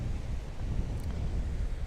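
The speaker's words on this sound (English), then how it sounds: "It's very windy today" Strong wind on the hills by Surrender Bridge and the Old Gang Mines buffets the microphone with a continuous low rumble and roar, steady throughout with no voices.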